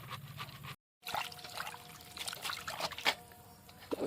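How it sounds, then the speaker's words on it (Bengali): Water poured over country chicken pieces to wash them makes a soft, brief trickle and splash that stops for a moment, then resumes quietly. "এখন আমি পানি দিয়ে সুন্দরভাবে ধুয়ে নেব"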